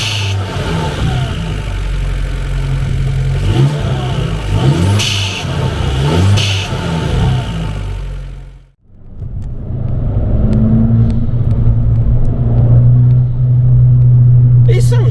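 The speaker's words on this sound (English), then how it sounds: "The next thing to do is just start the car and see how it sounds." An Abarth 595 fitted with a BMC pop-off air filter drives along with a loud, steady engine rumble that drops off briefly as it shifts, then builds back into a sustained drone.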